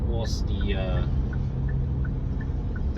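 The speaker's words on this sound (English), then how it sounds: "was the blind spot warning, if you guys can hear it" A blind spot warning chime in a 2022 Kia Carnival sounds as a rapid series of faint, evenly spaced beeps over steady road and engine rumble inside the cabin, with a brief higher tone at the start.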